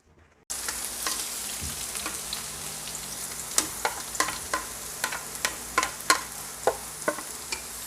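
Onions sauté in olive oil over low heat for homemade tomato sauce, giving a steady close sizzle after a quiet start, with sharp spatula clicks and scrapes in the second half.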